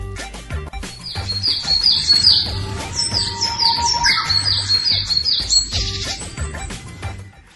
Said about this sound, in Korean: 산새들도 그 마음을 알았는지 지절거리며 즐거워한다